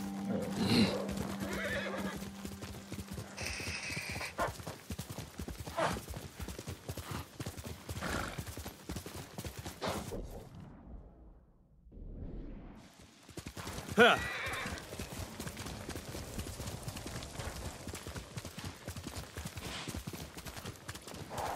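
A horse's hooves clip-clop at a gallop in Ghost of Tsushima, with a loud whinny near the start, a brief quiet gap midway, then more galloping under a player's occasional speech.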